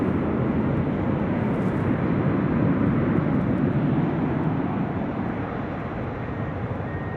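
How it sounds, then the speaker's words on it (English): A Delta Boeing 767-300ER rolls for takeoff on runway 24 left at LAX, heard from a high vantage point as a loud, steady, broadband jet roar that holds throughout. "Delta Flight 562 heading to JFK in the 767-300ER, now rolling down 24 left."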